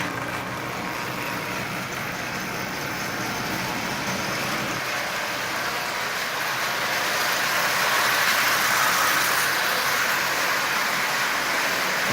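A Marx 400 toy train locomotive in a 490 body runs on rails pulling 18 Marx cars, giving a steady, continuous rumbling whir and rattle that swells slightly louder partway through, with no voices.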